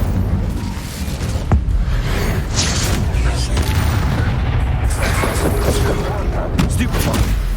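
The Incendio fire spell being cast in Hogwarts Legacy, a loud, sustained roaring blast with booming thumps and crackling impacts that carries through the whole stretch.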